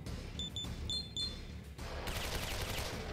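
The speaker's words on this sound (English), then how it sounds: "We're really letting these guns fly in this fight." Gunfire rings out during a Shin Megami Tensei IV battle, a few sharp bright shots in quick pairs followed by a denser rattling burst, with no talk over it.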